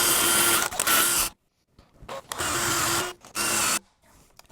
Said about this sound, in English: For this, I'll use a Forstner bit, but you could use a paddle bit